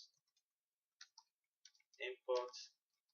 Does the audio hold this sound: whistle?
no